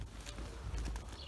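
A ridden horse walks in a riding hall, its soft, faint hoofbeats clopping in a short, quiet stretch.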